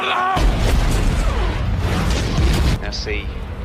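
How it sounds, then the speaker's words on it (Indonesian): Film explosion destroying a car and a house: a sustained heavy roaring blast with deep rumble and debris crackle, loud throughout, easing slightly near the end. "Setelah mobil dan rumah John meledak"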